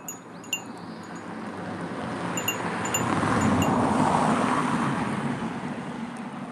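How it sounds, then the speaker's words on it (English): A car swells past on a road beside woods, its broadband rush building and fading over several seconds. Faint outdoor ambience surrounds it, with no voices. "Just the cars and me making noise"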